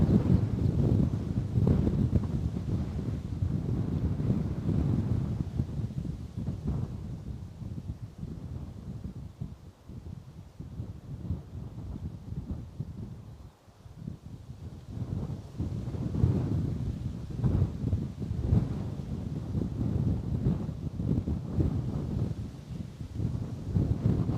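Gusty wind buffeting an outdoor microphone at Bristol Airport on a bank holiday, a continuous low rumbling roar that rises and eases in irregular surges, with a brief lull near the middle.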